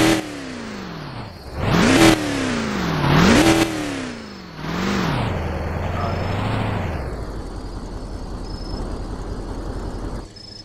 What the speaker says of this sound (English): That V8 sounds amazing.